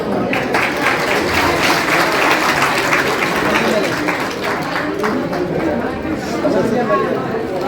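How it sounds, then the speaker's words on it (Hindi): A crowd in Kathua applauds steadily to welcome a cabinet minister and an MLA, a dense and continuous wash of clapping mixed with chatter and voices throughout. "हम इनका और इनके साथ हमारे ऑनरेबल एमएलए श्री विजय शर्मा जी का जहां तालियों से जोरदार स्वागत करते हैं।"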